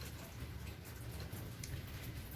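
Light drizzle falls steadily outdoors as a faint, even patter with a soft low rumble underneath and no voices.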